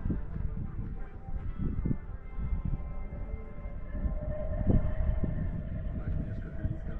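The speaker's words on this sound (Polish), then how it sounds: "Piękny dźwięk przeszywanego powietrza" Winch-launched glider climbing out on a tow cable, a steady broadband airy rush and drone with a brief swell near the middle, continuous and moderately distant.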